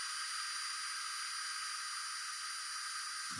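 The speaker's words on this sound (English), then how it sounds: "really just let the weight of the drill pull it down" A hand drill bores pilot holes in an electronics enclosure, giving a steady, faint high-pitched whir that holds evenly throughout with no talking.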